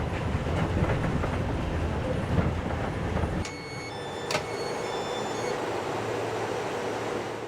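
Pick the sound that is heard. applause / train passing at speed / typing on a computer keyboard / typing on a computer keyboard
train passing at speed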